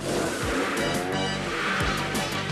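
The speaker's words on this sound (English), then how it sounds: "Gentlemen, start your engines." Cartoon race car engines rev and roar together in a dense, loud, continuous wall of engine noise with repeated pitch swoops and squealing tires, set at an off-road race from a 1985 animated series.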